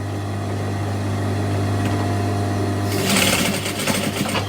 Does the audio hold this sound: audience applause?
no